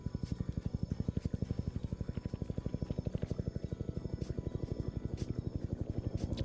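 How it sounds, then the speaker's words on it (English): Military helicopters in a Vietnam-era PvP game match, a steady rapid rotor thump pulsing continuously and fairly loud throughout, with no talk over it. "A little worried about the choppers landing, potentially booping their tails on the statics and killing themselves."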